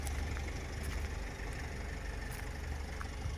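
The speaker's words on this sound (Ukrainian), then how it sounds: "відкриваємо капот і відходимо буквально на 3-4 метра і автомобіль майже не чути, як працює" A 2013 Renault Trafic Passenger with a 2.0 engine idles quietly with the hood open, a steady low rumble heard from a few metres away, even and unbroken throughout.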